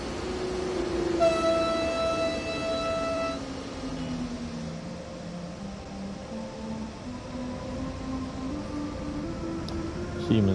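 A Siemens train in Train Sim World 5, a long horn blast followed by the steady hum and rumble of the train running, with whining motor tones sliding in pitch.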